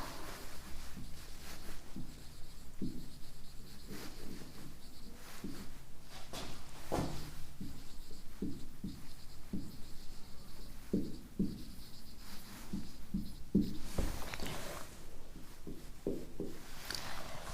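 Marker or chalk writing on a classroom board, a steady run of short scratchy strokes with small taps and knocks, close and moderately loud, with no talking over it.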